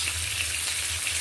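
Hilsa fish frying in a pan, cooked Padma riverbank style, gives a steady, close, dense sizzle and crackle that holds evenly throughout with no voices.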